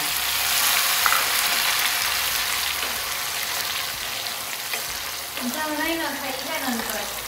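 Tomato frying in a hot pan with cumin seeds, a steady loud sizzle throughout, with a voice speaking briefly near the end.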